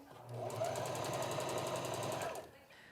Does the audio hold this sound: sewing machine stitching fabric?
yes